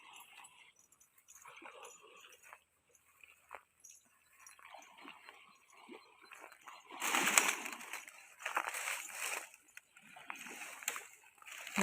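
An elderly man wades into a clear forest stream, with soft splashing and sloshing of water building to louder bursts in the second half, birds cooing faintly in the background.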